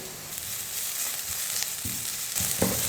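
Onion masala mixed with freshly chopped coriander is stirred in a hot pan, giving a steady close sizzle with a few louder scraping strokes toward the end, no voices.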